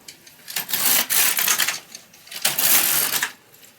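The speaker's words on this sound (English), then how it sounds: "And I'm going to knit 2 more." A knitting machine carriage sweeping across two rows of a Santa ornament doll, giving two long rasping, clattering passes of broadband mechanical noise, each lasting about a second, separated by a brief pause.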